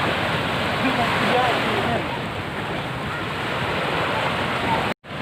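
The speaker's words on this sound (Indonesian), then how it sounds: "Ini ombaknya lagi agak kecil nih, nggak ada yang surfing." Steady roar of fairly small ocean surf washing onto a beach at Krui on the west coast, loud and continuous with a wind-like hiss, cutting off abruptly at the very end.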